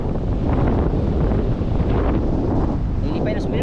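Strong wind roars steadily across a boat crossing from Mindoro to Navotas, a dense continuous rush buffeting the microphone, with faint voices underneath near the end.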